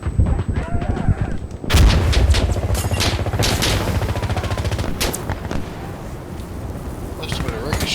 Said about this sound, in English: where are they shooting me from?